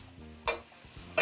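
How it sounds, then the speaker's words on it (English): Shrimp fried rice being stir-fried in a wok, with two short, bright scraping bursts of spatula against metal over a low background hum. "You want to be moving things around."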